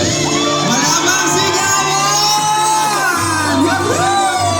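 A wedding crowd shouts, whoops and cheers loudly during the garter retrieval and the groom's dance, a dense, sustained roar of many excited voices with high shrieks rising and falling over steady background music.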